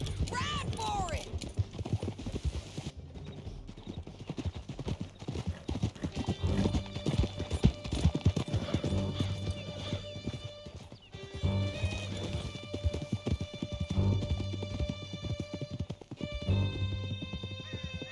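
A horse gallops hard through a canyon in the video game Red Dead Redemption 2, its rhythmic hoofbeats steady and close, with whinnies and snorts mixed in while voices and music play over the ride.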